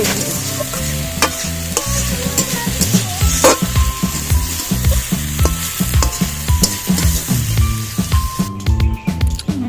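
Potatoes and leafy greens fry and get stirred in a pan for Bengali chorchori, seasoned with salt, turmeric and dried red chilli. A loud, steady sizzle runs throughout with repeated stirring scrapes, and tonal sounds play underneath.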